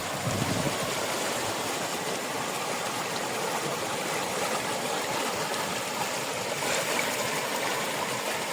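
Continuous rushing of the Khar river in Kirthar National Park after monsoon rain, even and moderately loud, with no voices over it.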